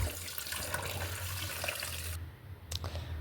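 Chopped chicken pieces rinsed under a running tap, steady splashing water at close range and low level, with a short shift in the flow near the end.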